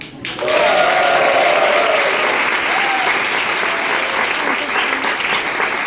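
A live concert crowd breaks into loud, sustained applause that swells quickly after a short pause and stays thick and steady to the end.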